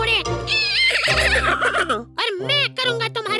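A horse neighs in a kids' cartoon, a bright, wavering whinny rising and falling over about two seconds, followed by short shrill cartoon vocal bursts that may be a character imitating a horse.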